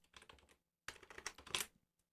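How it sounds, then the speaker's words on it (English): A computer keyboard is struck in two quick clusters of clicking key presses separated by a short pause, close and crisp, with no one talking. "So you hit the backspace key one time"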